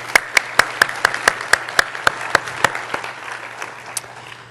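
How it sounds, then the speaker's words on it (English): An audience at the AGU Fall Meeting 2012 claps for a conference organiser. Sharp, evenly spaced claps stand out close by over a softer wash of clapping across the room, and the sound thins out toward the end. "I think we should give him a round of applause"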